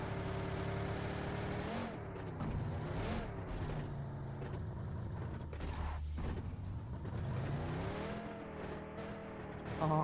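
A car engine in the PUBG battle royale game drones and revs with rising and falling pitch, loud and continuous throughout, with no talk over it.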